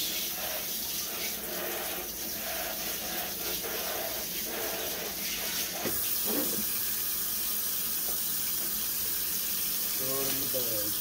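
Tap water runs steadily over pieces of cleaned fish being rinsed at a sink, a continuous loud splashing flow with handling clunks and a brief spoken word near the end.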